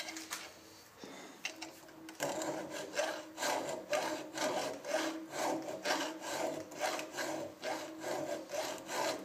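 Rhythmic rasping of an aggressive metal file held in a locking pliers handle, steady back-and-forth strokes cutting close and clear, about a dozen even passes after a brief pause.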